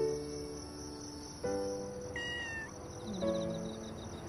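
A small kitten mews in short high cries, a couple of separate calls spaced across a few seconds, heard over a faint background of chirping insects.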